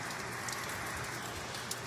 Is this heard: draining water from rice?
no